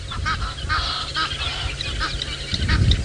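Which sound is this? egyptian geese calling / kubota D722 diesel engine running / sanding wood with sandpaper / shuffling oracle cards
egyptian geese calling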